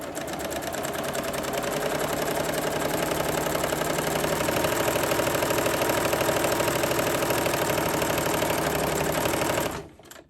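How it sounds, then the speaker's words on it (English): A sewing machine stitches two fabric pieces together with a 1/4 inch seam, running as one steady, close, loud whir for about ten seconds before stopping abruptly. No one speaks. "you're going to start by sewing the two pieces together with the right sides together at 1/4 of an inch"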